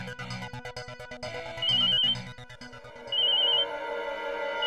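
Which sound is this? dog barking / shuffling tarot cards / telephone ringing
telephone ringing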